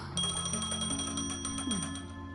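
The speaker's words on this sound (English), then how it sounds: "A phone." A phone rings in the Honkai Star Rail video game, a bright repeated electronic ring over a low tonal music bed.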